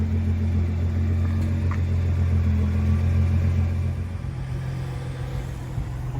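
A 2009 Nissan R35 GT-R with a 600 hp full bolt-on setup rumbles steadily while driving, a deep, constant engine drone from inside the car. The tone drops slightly about two thirds of the way through.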